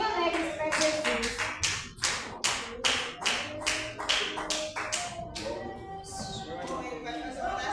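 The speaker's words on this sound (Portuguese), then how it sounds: "Você viu o servo do Senhor com palmas bem alegres para Jesus" A church congregation at a worship service claps together in a brisk, steady rhythm of about a dozen sharp beats, fairly close and lively, fading near the end.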